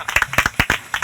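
Clapping from a small audience at a Talkaoke talk show session, heard as a short run of close, distinct hand claps in an uneven rhythm, about a dozen sharp hits within a second.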